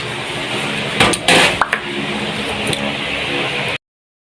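A lid goes back onto a cooking pot of sinigang with a few close metallic clanks and a scrape, heard over a steady background hiss and rumble.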